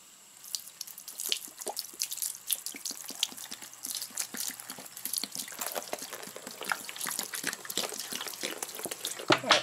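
Liquid poured straight over the zipper of a fireproof water-resistant document bag, a busy run of close drips, splashes and trickles spread evenly across the stretch with no talking.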